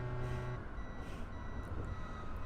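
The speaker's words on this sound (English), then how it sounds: "It doesn't actually mute like the beeper that tells you to stop while you're like coming up to a station" A station approach warning beeper in the train game Train Drive ATS 3 sounds as a steady electronic tone over a low rumble of machinery, fairly quiet and continuous.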